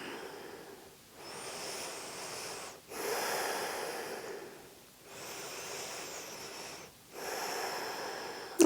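Slow deep breathing while holding a wrist stretch, arm extended with fingertips pointed down: two long, close breath cycles of airy hiss, each swelling then pausing briefly in near silence, no talking.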